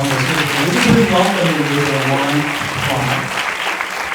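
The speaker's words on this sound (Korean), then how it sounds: "우리 따뜻한 박수로 좀 환영하면서" Audience at a university chapel event in Busan applauds to welcome a pastor onto the stage, steady clapping filling the room for about four seconds, with a voice faintly audible beneath it.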